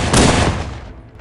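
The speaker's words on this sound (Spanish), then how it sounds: "Tres disparos certeros fueron suficientes para provocar un desprendimiento" Gunfire sound effect in a Spanish audiobook scene of a hunter shooting at rocks overhanging a cave ceiling: a loud, dense burst of shots at the start that fades into a rumbling decay, with no speech over it.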